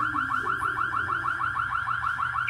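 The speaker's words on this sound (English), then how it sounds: "accidentally set off the alarm" A car alarm blares in a steady, loud, rapidly repeating warble, each cycle sweeping up and down, continuous and alone with no voices.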